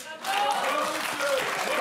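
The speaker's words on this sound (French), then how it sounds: "N'applaudissez pas!" A TV studio audience breaks into applause after a short quiet moment, a dense sustained patter of clapping with cheering voices and speech mixed in.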